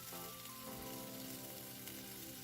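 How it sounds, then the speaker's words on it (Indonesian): Ayam bakar chicken grills in a teflon pan, giving a steady, close hiss and crackle of sizzling with no gaps. "Ini kita panggang secukupnya aja untuk berbuka"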